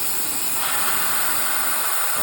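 The steam wand of a Gaggia Classic Pro espresso machine is run to purge milk, giving a loud, close, continuous hiss of steam that holds steady alone throughout.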